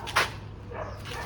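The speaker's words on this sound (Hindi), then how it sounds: "कुत्ते भी भौंक रहे हैं, भाव भाव कर रहे हैं।" Dogs bark outside a house as a lock is being opened, with one sharp yelp standing out near the start and fainter barking and rustling continuing behind it.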